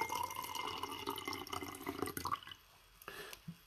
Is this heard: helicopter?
no